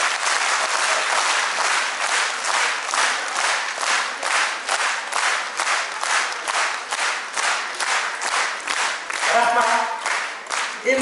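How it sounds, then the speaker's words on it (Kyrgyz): A seated audience applauds steadily and warmly at an event, with dense, even clapping that holds its level throughout before a brief voice rises near the end. "кол чаап койсоңуздар деп суранам."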